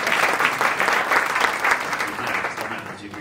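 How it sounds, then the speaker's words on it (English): An audience claps steadily at a Carlyle Room grand reopening event, a dense, continuous wash of applause lasting a few seconds without letting up. "You can clap for that"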